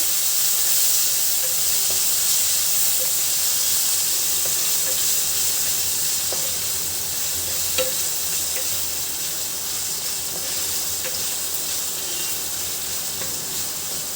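Onions and green chillies for an okra dish sizzling in a hot pan, a steady close hiss of frying with faint crackles and occasional light clicks, continuing without speech.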